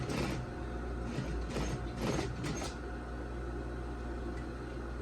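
Sewing machine stitching a seam on a zippered lab coat, a quiet mechanical whirring with a few short bursts of faster stitching, close and alone without talk.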